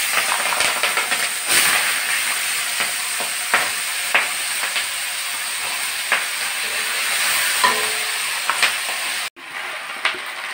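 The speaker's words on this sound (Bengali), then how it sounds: "এবার ধুয়ে রাখা পেঁয়াজকলি আর আলু একসঙ্গে ছেড়ে দিচ্ছি।" Washed onion greens and potatoes sizzling in hot salted oil, a steady bright hiss with scattered crackles and stirring clicks, close and loud, cut briefly near the end.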